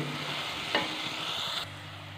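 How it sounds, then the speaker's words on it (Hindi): Garlic paste frying in a pan, a soft steady sizzle with a faint stir or scrape partway through, quiet and close, with no voices. "और लहसुन के पेस्ट को जो है वो हम 1 मिनट तक पकाएंगे, ताकि इसका कच्चापन जो है वो ख़त्म हो जाए।"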